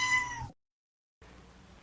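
A cat gives a single drawn-out meow, close and clear, then falls silent before a low murmur of background noise returns.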